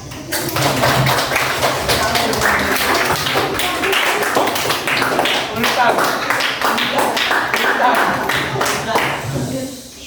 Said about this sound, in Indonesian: Ada di tepuk tangan.